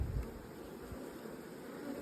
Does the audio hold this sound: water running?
no